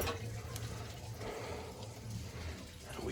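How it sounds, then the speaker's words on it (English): Water rushing back through a house's plumbing after the supply is reopened beside a Watts pressure regulator, a steady close hiss and gurgle that runs without a break and without talk. "Let's turn the water back onto the house."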